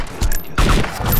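Gunfire in the video game DayZ, a burst of broadband gunshot blasts at roughly 0.2, 0.6 and 1.0 seconds, loud and close with no talking over it.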